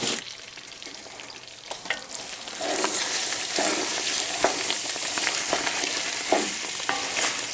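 Mirepoix vegetables being stirred into a hot dark roux for seafood gumbo: a continuous sizzle with repeated scraping stir strokes, growing louder and denser after the first few seconds.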